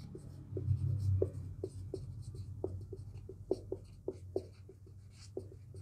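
A geometry definition of a quadrilateral is written by hand in quick, scratchy strokes. The close, rhythmic scraping is heard alone, without any voice.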